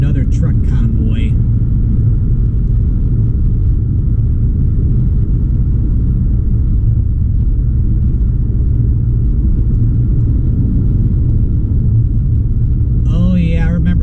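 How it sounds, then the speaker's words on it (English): A convoy of trucks passes on the I-40 freeway in Arkansas, heard from inside a moving vehicle as a loud, steady low road rumble, with brief speech at the start and end. "Unfortunately, we have another truck convoy."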